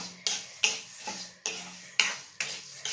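Urad dal is dry-roasted in a hot kadai on the stove, a spatula scraping and clinking against the metal pan in about seven regular, close strokes, with no talking.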